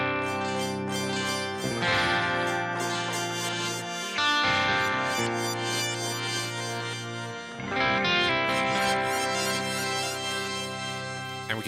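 A sustained synthesized tone plays through a non-reverse reverb effect with increased crossfade, its smeared, shimmering tail blending each phrase into the next. It is loud and continuous, with three swelling passages and no voice.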